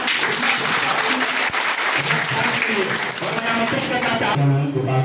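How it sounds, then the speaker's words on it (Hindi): Loud audience applause fills a hall at a health-service organisation's event for doctors in Gopalganj, Bihar, steady throughout, with voices and a speaker rising over it near the end. "जोरदार तालियां"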